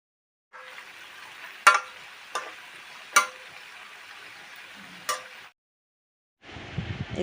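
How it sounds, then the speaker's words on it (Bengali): Potatoes frying in a pan for Kashmiri dum aloo give a soft, faint sizzle punctuated by a few sharp clinks of a utensil, then a brief silence before the frying noise resumes. "বাকি আলুগুলোও আমি এইভাবে ভাজা করে তুলে নেব"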